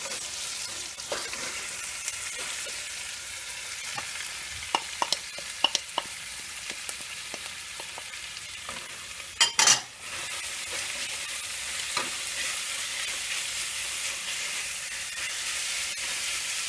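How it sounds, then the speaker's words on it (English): Chopped carrots frying in a pan for tomato pasta sauce, a steady soft sizzle with light scattered clicks of stirring and one brief louder scrape partway through. "I'm going to add the carrots to it."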